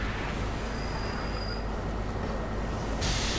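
Steam locomotive in the Far Cry 3 multiplayer shooter video game: continuous dense rumbling train noise with a steady roar and faint hiss throughout, close and fairly loud, no talk.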